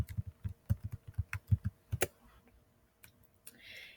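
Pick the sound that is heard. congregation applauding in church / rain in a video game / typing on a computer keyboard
typing on a computer keyboard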